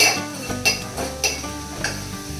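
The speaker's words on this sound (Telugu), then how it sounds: "సో తొందరగా అయితే ఆనియన్స్ అనేది ఫ్రై అయిపోతాయి" Onions frying in a pan for a Telugu home-style taro root curry, with steady sizzling beneath repeated scrapes and clinks of a spoon stirring against the metal pan, close and continuous.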